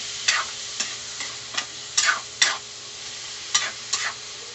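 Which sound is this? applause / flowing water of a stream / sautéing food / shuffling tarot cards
sautéing food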